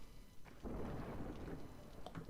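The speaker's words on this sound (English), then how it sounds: "Storm's coming." A thunderstorm in the city-building game Against the Storm rolls in as a deep, low rumble that swells after a brief lull, with a dense wash of rain-like noise, at moderate volume with no voices.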